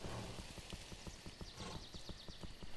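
A horse in the video game Kingdom Classic gallops with fast, steady clip-clop hoofbeats, evenly spaced and close, over a dense ambient background, no talk.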